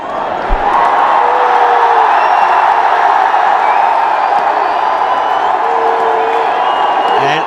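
A big cricket crowd at a Ranji Trophy match between Delhi and Railways roars steadily as a star batsman walks out to bat, a dense sustained wall of cheering and shouting that holds at full volume throughout.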